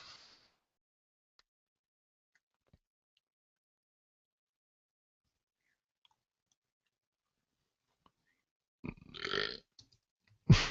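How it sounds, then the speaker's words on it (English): A loud belch near the end of a mostly silent stretch, one rough burst followed by a short sharp sound, close and clear with no talk. "And then he belched loudly."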